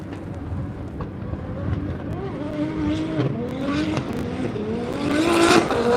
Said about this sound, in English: We've got Kyros Artemiou entering the track with his E46 turbo.